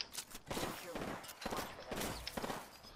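Gunfire in the Apex Legends battle royale game, dense bursts of rapid shots in quick clusters across the clip, loud and close, with game effects layered underneath.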